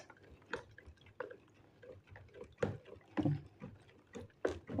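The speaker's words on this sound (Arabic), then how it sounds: "يلا نديله حبة تقليب كده" Homemade liquid soap stirred by hand in a large batch of about eight liters, irregular sloshing swishes and knocks close by, no talk.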